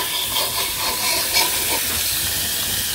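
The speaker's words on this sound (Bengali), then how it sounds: "এই যে মাছ ভাজতে দিছে" Fish frying in a pan in a village kitchen gives a steady, fairly loud broadband hiss and sizzle, with no voices over it.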